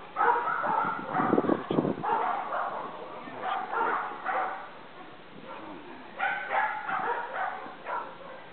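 Dogs bark and yip nearby at a dog training session, with repeated short barks in bursts throughout, loud and close, plus a few whimpers.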